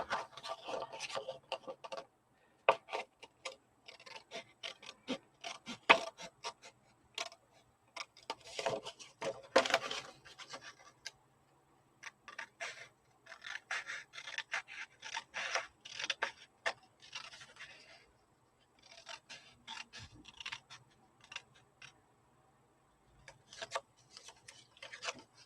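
Scissors cutting paper for scrapbook pages, quiet snipping and rustling in short irregular bursts separated by silent pauses, close and soft.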